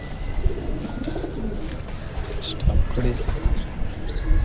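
Soft pigeon cooing and rustling wings mixed with someone talking over it, the birds fairly close and steady throughout.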